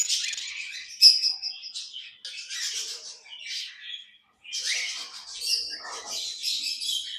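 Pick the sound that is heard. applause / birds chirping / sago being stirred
birds chirping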